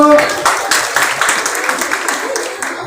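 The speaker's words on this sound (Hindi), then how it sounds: "बच्चे आप तालियों की गड़गड़ाहट से इनका उत्साह वर्धन करें" Children clap as a group at a 2022 student award ceremony, producing dense, loud applause that starts strong and gradually tapers off.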